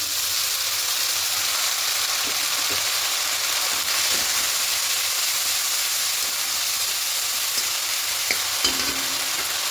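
Ground spice paste sizzles in a frying pan over lightly browned chopped onion, giving a loud, continuous hiss with small scraping stirs and pops close up and no talking.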